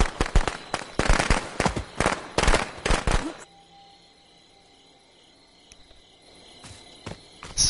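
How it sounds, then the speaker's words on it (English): Firecrackers going off in the video game Friday the 13th: a rapid string of sharp, loud pops and cracks for about three seconds, then a quiet stretch with a few faint clicks. "Oh, the firecracker stunned him."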